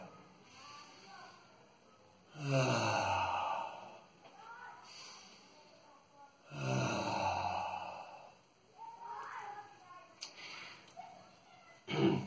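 Slow, deliberate breaths in and out during a flowing tai chi-style circling exercise, with distinct loud exhales at intervals, faint breaths between and a sharp click near the end.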